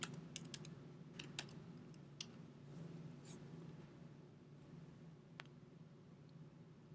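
Quiet, sparse clicks of a computer keyboard being typed on, a few short keystrokes spread over several seconds above a faint steady room hum, with no voices.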